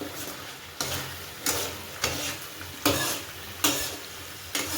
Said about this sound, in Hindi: तो मसाला को फ्राई किया जा रहा है।